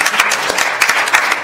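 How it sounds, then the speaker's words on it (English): An audience at a civil rights summit bursts into applause, dense and fairly loud clapping throughout the short stretch, with no talk over it. "well, I take that applause for Rothstein."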